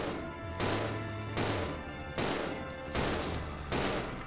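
Rapid bursts of gunfire in the video game Resident Evil 0, four or five loud cracking shot clusters in quick succession against a steady game soundscape, no talking.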